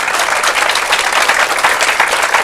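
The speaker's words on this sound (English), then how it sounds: "if we could give a round of applause to all our candidates" Loud, dense applause from the audience at a Nashville mayoral candidate forum on education, honoring the candidates; a thick, continuous wash of many hands clapping up close, with no speech.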